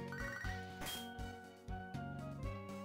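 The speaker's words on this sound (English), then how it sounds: "I don't want to get phone calls like this one from Ralph." An incoming-call ringtone in Pokémon SoulSilver plays alone as a bright, repeating chiptune melody of quick pulsing notes.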